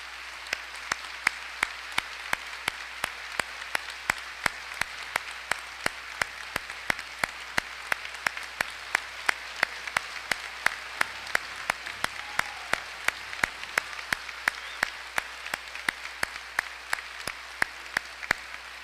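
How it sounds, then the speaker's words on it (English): Audience applauding service members at a high school Veterans Day ceremony, a steady sustained round of clapping from a sizable crowd, fairly distant and even throughout with no talk. "Please give these and all the service members a round of applause in recognition to their service."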